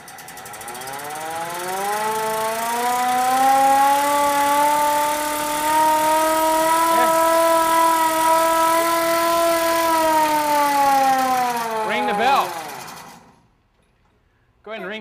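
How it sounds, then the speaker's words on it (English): A fire engine's loud wailing siren rises and holds a steady, sustained tone for several seconds, then winds down and cuts off near the end. "You want to turn the siren?"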